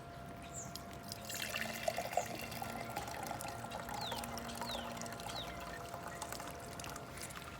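Water poured from a container onto the soil of a potted plant as it is layered, a soft steady trickle and splash close by, lasting several seconds with no talk over it.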